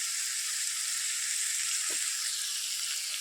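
Small fish fry in a pan with a continuous, even hiss of hot oil, faint and steady throughout, with one brief soft knock partway through.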